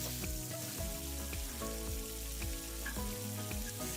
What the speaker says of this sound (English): And that is the sizzle that I want to hear.